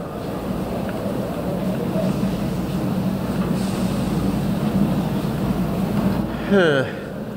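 A train ride in the video game The Raven: Legacy of a Master Thief gives a steady, loud rumble of rolling rail cars throughout. A short tonal chirp comes near the end, and a person talks over the noise.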